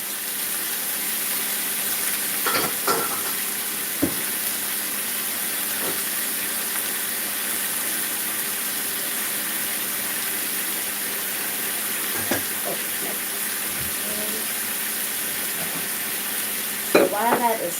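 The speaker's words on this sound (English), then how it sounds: "Let that fry up a little bit." Steady sizzling and crackling of chicken frying in a hot pan, with a few clinks and scrapes of a utensil now and then.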